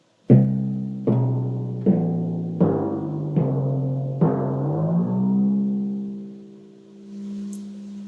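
Five resonant timpani strokes, pitch changed with the pedal, rise step by step as a scale, evenly spaced, then the last note rings out and slowly fades.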